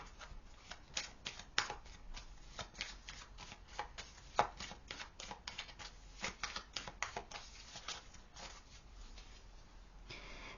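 Tarot cards are shuffled close by in an irregular run of quick crisp riffles and soft slaps, faint overall, with no talking.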